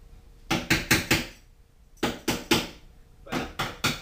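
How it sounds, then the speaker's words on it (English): Three bursts of heavy hammer blows drive parts home into a lathe stand, each burst two to four sharp ringing metallic strikes, close and loud with short pauses between. "Driven home with this massive hammer."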